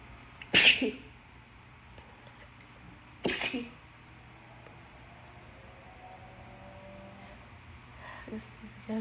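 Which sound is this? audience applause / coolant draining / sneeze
sneeze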